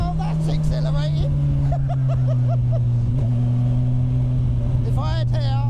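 A 450 bhp turbocharged Hayabusa motorcycle accelerates hard with a loud, rising engine tone and warbling turbo and drivetrain whines, while people talk excitedly over it.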